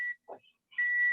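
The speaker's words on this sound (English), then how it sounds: "What's that beeping noise?" An electronic appliance beep, likely a microwave signalling it has finished, sounds as a steady high tone that cuts off, then returns and holds after a short gap, with a brief murmur of voice in between.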